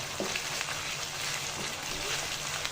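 Raw spice paste salted in a hot pan sizzles and crackles steadily throughout, a dense close frying hiss with a few faint scraping touches and no talk.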